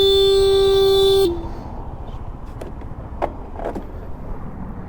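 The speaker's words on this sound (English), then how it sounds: "People honking at me." A single long, loud car horn blast close by on a city street during a delivery stop, cutting off abruptly and followed by softer traffic and street noise with faint distant toots.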